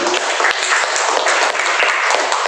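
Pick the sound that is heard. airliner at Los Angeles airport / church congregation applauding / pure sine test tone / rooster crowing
church congregation applauding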